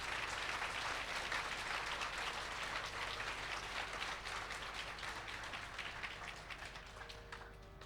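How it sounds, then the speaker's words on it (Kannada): Applause from a concert audience at a devotional music programme, a dense wash of many hands clapping, fairly faint and distant, slowly tapering toward the end. "ಜೋರಾಗಿ ಚಪ್ಪಾಳೆ ಹೊಡೀರಿ."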